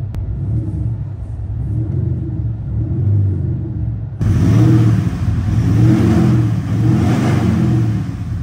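A SsangYong Rexton Khan pickup fitted with a Maxhaust active sound exhaust revs loudly in repeated deep surges, the rumble swelling and easing, with a louder, fuller section partway through.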